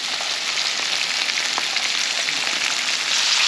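Fish fillets, one bled and one unbled, fry in a pan with a steady, dense sizzle and crackle that holds evenly close by, with no voices.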